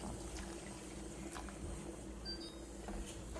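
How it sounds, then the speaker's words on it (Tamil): A full glass of water is poured into a pot of dal with coconut masala paste and almonds, making a steady, close liquid splashing and filling sound with no talking. "ஒரு கிளாஸ் ஃபுல்லாக தண்ணியை இதில் சேர்த்துக்கலாம்."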